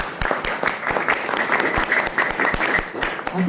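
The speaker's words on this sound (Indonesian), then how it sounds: "Tepuk tangan untuk kita semua." A village youth organization gathering in Buduran, Sidoarjo, breaks into steady, lively applause, sharp individual claps standing out within a sustained, moderately loud burst.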